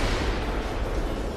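Gunfire in the video game Half-Life Black Mesa, a dense, loud burst of shots and blasts blurring into a continuous roar.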